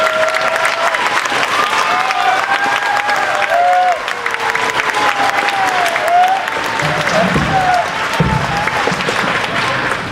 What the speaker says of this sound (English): give them another round of applause for their amazing performances